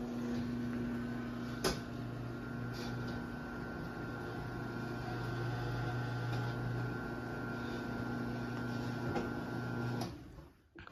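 Chamberlain HD600D garage door opener with a half-horsepower AC motor lowering the door, a steady mechanical hum and drone running for about ten seconds with a couple of faint clicks before stopping.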